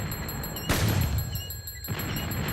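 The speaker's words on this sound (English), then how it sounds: "Sometimes the explosions push you," A single sharp explosion bursts in the Squishcraft video game, a loud broad boom that decays over a second, set against thin beeping game tones and a lighter thump afterward.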